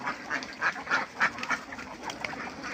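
Ducks on a duck farm quack in a quick run of short nasal calls, several overlapping, moderately close and fairly quiet.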